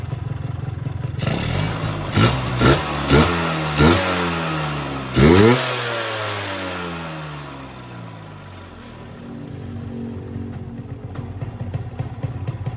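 A motorcycle engine fitted with a Ninja VM28 carburetor idles, then takes several sharp throttle blips in a row before settling back to a steady idle, close and loud with no talking.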